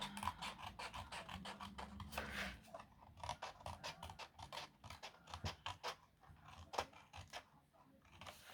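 Scissors cut paper along pencil lines for a papercraft articulated animal, a quiet run of rapid snipping and rasping strokes close up, with no talking.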